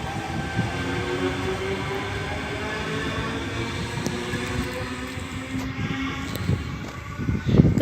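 A Tangara passenger train passes close by with a continuous loud rumble and rolling rail noise, steady throughout and swelling slightly toward the end, with no talk.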